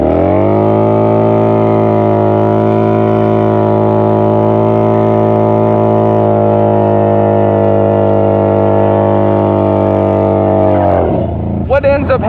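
A Yamaha Bolt motorcycle engine held at a high, steady rev for about eleven seconds during a rolling burnout, loud and close, then cutting off abruptly into brief clatter.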